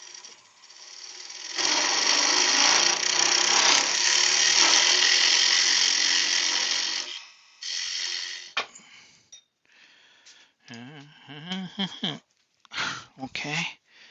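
A wood lathe turns timber for a cocktail stick holder, with a loud whirring, scraping cut lasting several seconds, then stopping as someone talks in short phrases.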